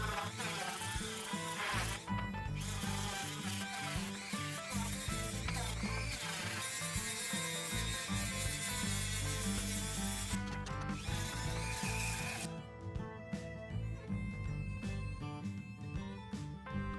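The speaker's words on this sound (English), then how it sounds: "just get in there and spend some time in the sanding zone" A pipe of Osage orange wood is sanded with a loud, continuous, close rasping and whirring. There are short breaks near the start and middle, and the texture shifts later on.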